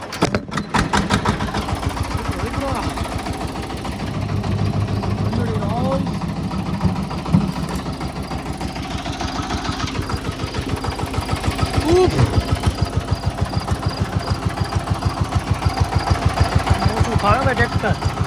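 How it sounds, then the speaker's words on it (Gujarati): A tractor engine idles with a steady low rumble and rapid even firing pulses throughout, loud and close in a village setting, while people talk over it. "તો આજ આપણું ટ્રેક્ટર આવી ગયું છે"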